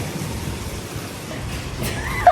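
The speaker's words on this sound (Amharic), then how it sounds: "ዝናብ ጀምሯል።" Steady rain begins to fall outdoors, a dense, even hiss of drops that stays fairly loud and constant throughout, with a brief higher whistle-like sound near the end and no talking.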